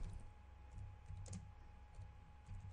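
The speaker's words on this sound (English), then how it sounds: "see I can type a message in here" Soft clicking of a computer keyboard as a chat message is typed, faint, close keystrokes in an uneven rhythm over a low steady background hum.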